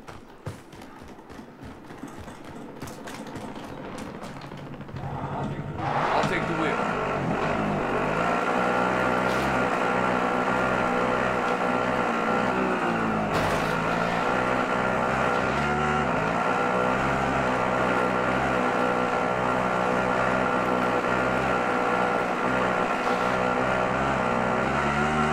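A vehicle engine in Call of Duty Modern Warfare starts up after some scattered clatter, then settles into a loud, continuous drone that carries on steadily with slight shifts in pitch.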